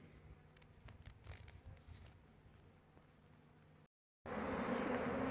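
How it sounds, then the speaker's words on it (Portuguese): Bees buzz around abandoned hive boxes that a new swarm has just moved into, a continuous close hum at fairly low level that breaks off briefly and comes back louder and fuller. "Ah, tem abelha aqui, abelha lá."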